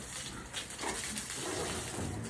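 A pregnant sow on a farm grunts and squeals while being bathed, with continuous splashing water and broadband noise throughout, close and loud.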